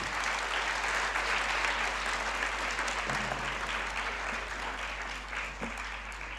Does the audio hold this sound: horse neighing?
no